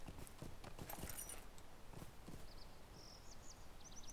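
A horse in a video game set around North Bree trots with quick, light clip-clopping hooves, faint and steady, while birds chirp softly in the background.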